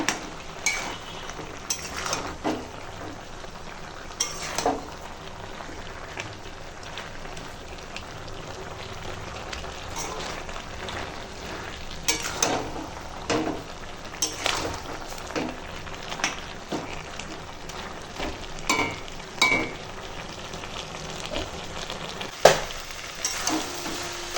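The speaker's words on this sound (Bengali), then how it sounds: "এখন একটু ওপর নিচ করে এরকম মিশিয়ে নেব।" A pumpkin-greens curry with fish roe fries in a pan, a soft continuous sizzle broken by repeated scraping stirs and occasional clinks of a utensil against the metal.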